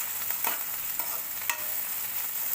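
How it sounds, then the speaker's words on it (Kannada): Onion and green chilli fry in a seasoning tempering, close and sizzling, while a spoon stirs them in short scraping strokes about every half second. "ಈರುಳ್ಳಿ, ಹಸಿಮೆಣಸಿನ್ಕಾಯಿ ಹಾಕಿ ಫ್ರೈ ಮಾಡ್ಕೊಳ್ತಾ ಇದ್ದೀನಿ."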